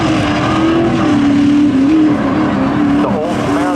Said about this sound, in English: WRX on the outside, stalling out just a little bit, giving way to that Camaro.